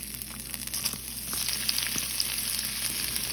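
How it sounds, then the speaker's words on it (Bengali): Bay leaves and cardamom frying in hot oil for dal chorchori, a steady bright sizzle with crackling pops rising slightly in loudness, close and unbroken by talk. "এবার তেল গরম হলে এখানে আমি তেজপাতা এলাচি দিয়ে দিচ্ছি"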